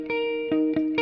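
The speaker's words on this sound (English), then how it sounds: "Bright reverb right there." A clean electric guitar rings through a bright reverb, a few plucked notes spaced about half a second apart, each sustaining and blending into a shimmering tail, played alone without any talking.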